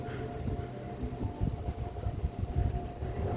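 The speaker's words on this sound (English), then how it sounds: "And there goes the freight train." A freight train rolls past a station platform with a low, uneven rumble and faint rhythmic clatter of wheels, moderately loud and continuous.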